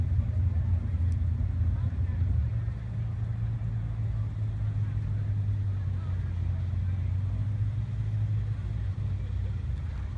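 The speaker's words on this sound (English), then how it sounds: "checking out some 300-foot sand drag racing here" Sand drag racing vehicles on a 300-foot track at a Pro Bracket eliminations event at Soboba, heard as a steady, loud low engine rumble that drones on without a break for the whole stretch.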